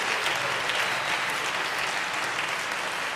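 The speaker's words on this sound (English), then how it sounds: "you want to clap your hands for real" Hands clap throughout a church congregation in a dense, steady burst of applause that holds at an even level, close and filling the room.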